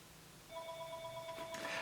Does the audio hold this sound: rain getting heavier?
no